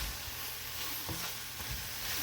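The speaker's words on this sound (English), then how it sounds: "I'm just going to stir it around a little bit here" Taco meat is stirred in a hot frying pan, giving a steady close sizzle with a few soft scraping stir sounds throughout.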